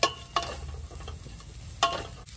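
Green chilies cook in a pan with red chili powder and fenugreek under a quiet steady sizzle, with a few sharp clinks as the pan is stirred.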